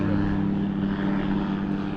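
Steady droning hum of a single-engine propeller airplane, constant and moderately loud throughout, with no clear voices.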